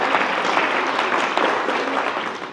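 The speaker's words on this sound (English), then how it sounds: "Give them a round of applause." Audience applause after a devotional drama performance at a Gaura Purnima gathering in Manchester, steady dense clapping from a crowd that runs the whole stretch without letting up.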